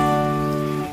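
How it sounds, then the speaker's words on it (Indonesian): Heavy rain falls steadily on a hydroponic NFT seedling setup for lettuce, water spinach and red spinach, a dense continuous wash that holds at an even level throughout with no voices. "lagi hujan ya, lumayan deras sebenarnya."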